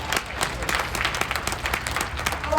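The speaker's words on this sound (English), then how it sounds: "we should give ourselves a resounding clap" Convention audience in a casino hall claps together, an even run of moderately loud applause with scattered sharper claps.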